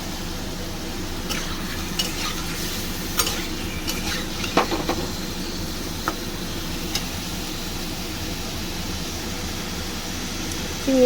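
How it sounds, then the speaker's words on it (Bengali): Prawns rubbed with salt and turmeric sizzle steadily in hot oil in a pan, a continuous frying crackle with occasional clinks and stirring scrapes, close and alone without talk. "চিংড়ি মাছটা আমি একটু হালকা করে ভেজে তুলব, খুব বেশি ভাজবো না।"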